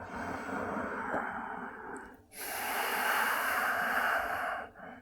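Deep, slow breathing while holding a half moon yoga pose: a long airy exhale, a brief pause, then a fuller, louder breath of steady rushing air, close and without talk.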